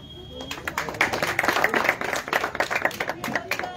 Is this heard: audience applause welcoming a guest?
yes